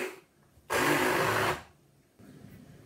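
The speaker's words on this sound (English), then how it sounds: "So I shall get my trusty blender and start blending." Kitchen blender whirring as it blends curry paste for a massaman curry, one loud steady burst under a second long that starts and stops abruptly, set between quiet room noise.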